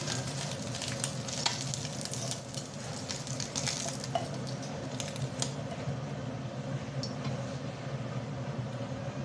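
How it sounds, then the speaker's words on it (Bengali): Fish sizzles steadily in a frying pan as a side dish with pointed gourd is prepared, a close, continuous crackle with occasional scraping stirs and light clinks, no voices. "মাছগুলো ভাজি হয়ে গেছে"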